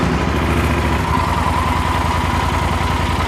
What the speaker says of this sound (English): Now let's start the Super Tenere.